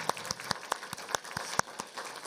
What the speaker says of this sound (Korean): 우리 하나님 앞에 큰 감사와 영광의 박수 올려주세요